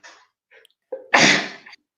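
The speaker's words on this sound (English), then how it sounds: "I need to sneeze." A single loud, explosive human sneeze bursts out after a few short, breathy inhales building up to it, close to the microphone and heard on its own without talk.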